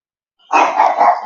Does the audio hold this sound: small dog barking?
yes